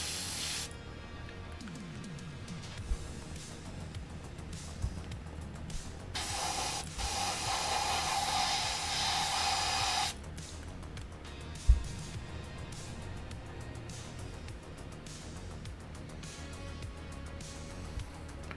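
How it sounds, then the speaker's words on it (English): Airbrush blowing acrylic paint to clear its nozzle: a steady, loud hiss bursts out for about four seconds amid quiet workbench clicks and small knocks. "I just have to clear my airbrush nozzle from time to time."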